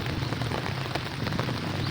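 Rain falls steadily in a continuous dense hiss of drops striking surfaces, fairly loud and even throughout, with no speech.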